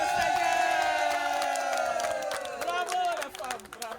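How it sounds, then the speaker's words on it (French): Crowd at a conference session applauding and cheering, with sustained whoops and shouts over clapping, moderately distant and loud, while voices and chant-like calls ring out on top. "Applaudissez!"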